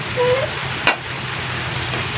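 Pechay leaves drop into a pot of boiling water, a sharp brief splash and sizzle burst midway through a steady bubbling, hissing simmer, with no voices.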